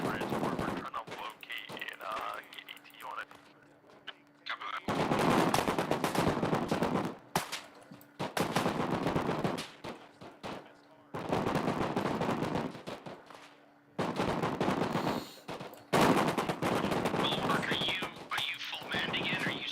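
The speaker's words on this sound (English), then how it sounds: "Suppressing fire." Gunfire in the military game Arma, loud bursts of rapid automatic fire in several long volleys separated by brief pauses, with a voice talking through parts of the battle.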